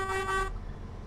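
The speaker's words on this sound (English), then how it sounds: "Let's give you a honk." A bus horn in the OMSI 2 bus simulator game blares once in a short, steady, bright honk, then cuts off abruptly, leaving low engine rumble.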